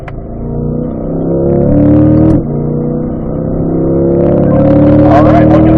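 A car accelerates hard on the Ron Fellows race track, its engine revving up loudly and steadily, with a brief dip in pitch around a gear change before it climbs again.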